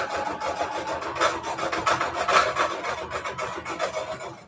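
A sewing machine straight stitching through paper junk journal pages, a fast, even rasping chatter with a rattling edge, close by and fairly quiet, running continuously without pause.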